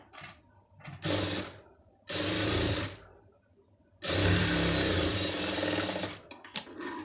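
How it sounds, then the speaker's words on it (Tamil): Sewing machine stitching saree cloth for a sleeve, running in loud bursts of rapid mechanical whirring separated by short quiet pauses, the longest run lasting about two seconds near the end. "இதை மடித்து ஒரு தையல் போட்டுருங்க"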